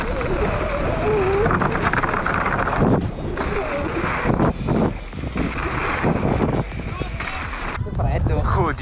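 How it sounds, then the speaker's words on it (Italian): Outdoor wind buffets the microphone during a mountain-bike outing, giving a loud, continuous rumbling roar with gusty swells and drops; people talk intermittently beneath it. "C'è vento poi."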